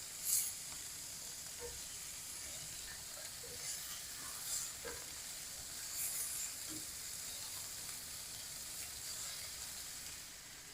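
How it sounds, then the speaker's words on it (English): Beef searing in a pan for a stew, a quiet continuous sizzle and hiss with a few sharper spits and pops, close but faint, no talking. "I want that to be really seared well before we move it over for a slow cook"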